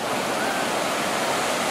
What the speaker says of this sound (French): du grand spectacle, les chutes de la rivière aux Chaudières, comme si vous y étiez.